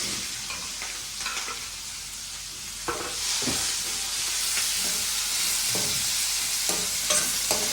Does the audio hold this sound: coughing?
no